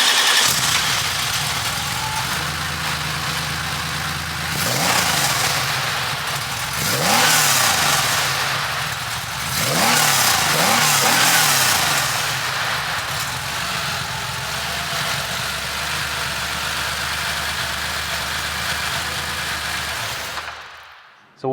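An air-cooled Porsche 911 Dakar build cranks and fires up, then settles into a lumpy, rumbling idle with several sharp throttle blips and revs rising and falling before cutting off at the end.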